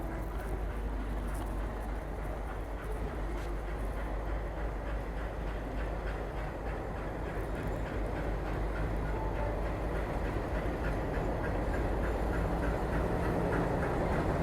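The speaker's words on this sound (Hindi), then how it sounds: "एल्को लोकोमोटिव शंटिंग का काम करता हुआ" An ALCO diesel locomotive does shunting work in Maharashtra, a steady heavy rumble of engine and rolling stock droning continuously at a moderate distance without pause.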